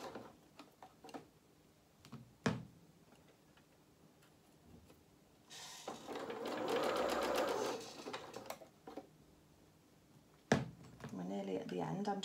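A sewing machine stitching the curved bottom hem of a small fabric hat, running in a steady whirring burst of a couple of seconds amid quiet ticks and clicks, with a person talking faintly around it.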